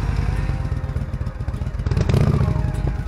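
Honda motorcycle engine firing up and idling close by, a loud chugging, clattering rumble with a brief rise in revs partway through.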